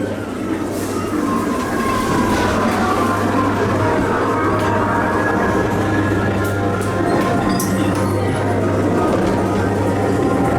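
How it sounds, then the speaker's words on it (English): Ghost train ride cars at Blackpool Pleasure Beach rattle and clatter along the track in a steady, continuous rumble, loud and close, with no one speaking. "World's first ghost train."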